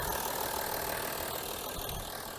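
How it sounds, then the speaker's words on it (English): A 2007 Audi A6 Avant engine idles smoothly and steadily, heard faintly and evenly from the engine bay with no other sounds. "as you can hear, it ticks over beautifully"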